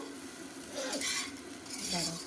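Rice and turmeric frying in a pot for pulao are stirred with a utensil, making two short bursts of scraping and clinking over a faint sizzle, close by.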